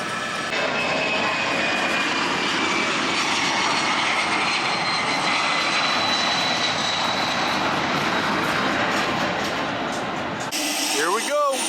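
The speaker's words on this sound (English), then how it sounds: "So we're gonna watch this dude take off in the fighter jet." A fighter jet roars loudly and continuously as it takes off near a car show, a thick, sustained engine blast that fills the whole clip before cutting off abruptly at the very end.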